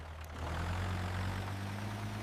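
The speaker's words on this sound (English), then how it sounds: "He revved his engine with all his might." A cartoon construction truck stuck in mud revs its engine, a low heavy steady rumble with a droning hum, faint and alone without talk.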